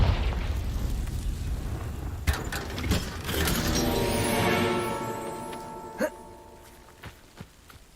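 A Confringo fire spell in the video game Hogwarts Legacy explodes as a loud, booming burst that swells and slowly fades. Sharp magical crackles and pops follow, with a short final snap.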